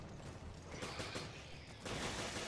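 Rapid bursts of gunfire in the video game Resident Evil: Revelations crackle in quick succession, dense and noisy, with a heavier volley near the end and no voices.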